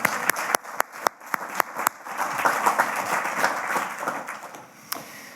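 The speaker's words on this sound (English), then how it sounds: "These folks deserve applause times 2, so let's make some noise for them as well" An audience applauds the staff and students of an aging-research center at an annual lecture and awards event, opening with a few sharp, scattered claps that swell into a steady wash of moderate clapping.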